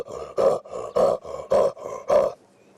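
A voice imitates the rasping cough of a male leopard at sunrise in the Sabi Sand reserve, a rhythmic series of about eight harsh sawing grunts alternating strong and weaker strokes, close and loud before it stops.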